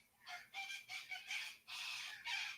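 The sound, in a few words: birds calling, rooster crowing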